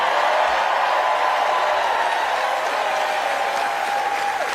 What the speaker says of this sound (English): let's give another big round of applause to the next governor of North Carolina, Stein.